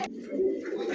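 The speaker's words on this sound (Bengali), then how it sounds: "তারপর দেখছেন কত সুন্দর একটা কবুতর" A pigeon gives a single close, soft, low coo in a short burst, clear and alone.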